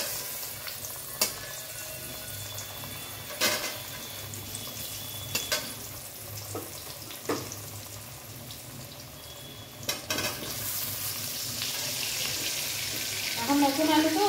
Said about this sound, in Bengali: আলুগুলো ভালো করে লাল লাল করে না ভাজলে না আলুগুলোর টেস্ট হয় না